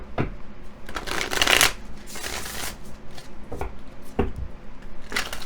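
Tarot cards being shuffled during a love reading, several quick riffling bursts and soft slaps close by, with no talk.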